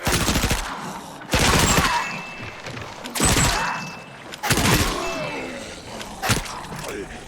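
Rapid automatic gunfire in the video game Dying Light: The Beast, with zombies being shot: several loud, close bursts separated by short pauses, with a voice talking faintly underneath.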